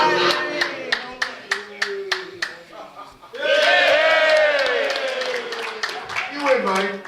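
Lions and Elks club audience clapping to vote: a few sharp rhythmic hand claps first, then a loud burst of sustained applause mixed with cheering and shouting that gradually tapers off.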